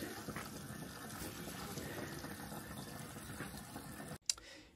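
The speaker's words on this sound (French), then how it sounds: "je suis en train de faire le remplissage du réservoir d'eau" Water running steadily into a camper van's water tank through a large sediment filter, a constant close gush of flow that cuts off abruptly near the end with a brief clunk.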